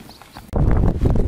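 Horses walk along a new trail toward an abandoned small town, hooves clopping in an irregular, close patter that starts after a brief quieter moment, with faint birdsong in the background.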